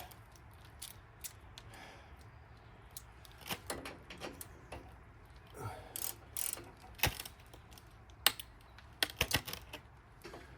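Bolts tightened on a lift control arm during a suspension install, quiet with irregular ratchet clicks and metallic taps in short bursts over low background hiss, no talking.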